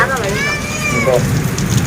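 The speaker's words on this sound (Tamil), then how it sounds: "நல்ல மழை சரியான மழை" Heavy summer rain during a thunderstorm season downpour in a Tamil village, a steady dense hiss of drops on surfaces throughout, with a voice speaking over it.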